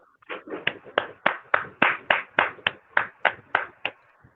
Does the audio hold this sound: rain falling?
no